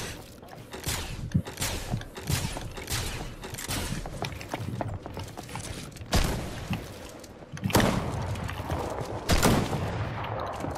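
Blaster rifles fire in a Star Wars video game, a rapid stream of sharp bursts packed close together, some louder and nearer than others, over a busy background of mechanical clatter.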